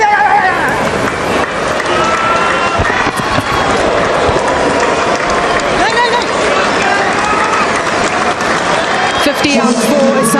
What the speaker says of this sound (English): his team appreciated, applauding from the change room